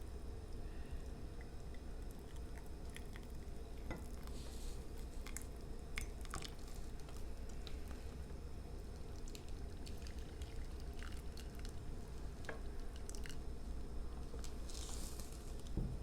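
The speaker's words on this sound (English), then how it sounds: "Slowly pour it over." Hot milk slowly poured over a cocoa bomb in a mug, a steady soft liquid pour with scattered drips and faint clicks running continuously at low volume.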